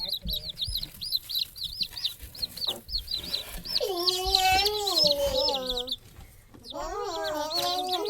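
Baby chicks peep in rapid, high repeated chirps while eating, close and lively. A voice talks over them for much of the time.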